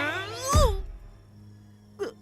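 A long, falling wail rings out in a jungle, loud and drawn out, followed after a pause by a shorter, fainter cry. No one speaks.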